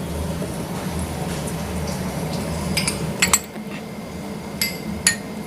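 Boiled chickpea paste is added to chicken mince in a bowl, heard as a steady low background hum with a few light clinks and taps toward the end.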